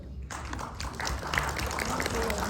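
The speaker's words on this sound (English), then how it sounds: "let us give a round of applause to her" Steady applause from an audience at a talk on exosomes and anti-aging, starting after a brief hush and holding as dense, even clapping close by.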